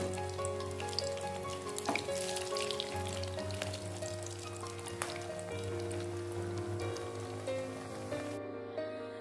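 Chicken shami kebabs fry in hot oil with a steady close sizzle and crackle, punctuated by occasional sharper pops and spatters, then cutting off abruptly at the end.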